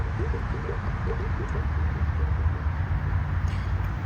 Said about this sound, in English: That bubbling you're hearing is air escaping out of the system here.